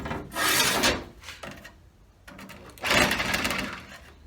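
A budget electric power saw cuts a straight line in two loud, rasping bursts about a second long each, separated by a quieter pause, close up with no talking.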